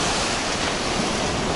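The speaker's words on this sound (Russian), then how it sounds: "Да, вечерком были такие волны небольшие. Но сейчас это, можно сказать, шторм какой-то." Stormy sea surf at a beach in Kusadasi, Turkey, a dense continuous roar of breaking waves filling the whole moment, loud and close with no voices.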